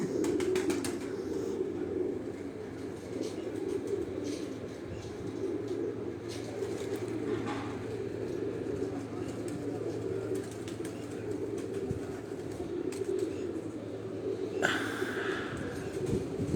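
Pigeons, including two large birds and a young one, at a rooftop breeding setup, giving soft continuous low cooing throughout, with occasional wing flaps and rustling nearby and no talk.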